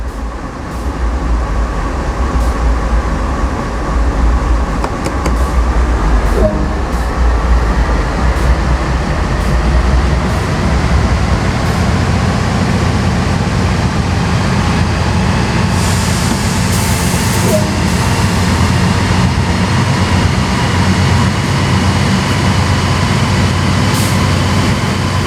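A heavy freight locomotive in Train Sim World, set on the Sand Patch Grade line in America, rumbles steadily as it begins to pull away, a loud continuous low engine drone with rising mechanical hum and no talk.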